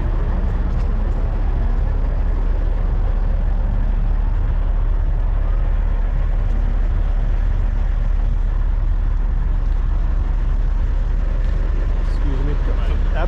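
A Fleener Brothers truck at the 40th anniversary Super Rigs truck show, with a loud, steady low engine rumble running throughout and people talking over it.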